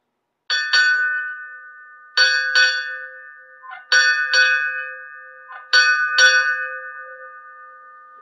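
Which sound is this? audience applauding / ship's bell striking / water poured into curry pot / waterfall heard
ship's bell striking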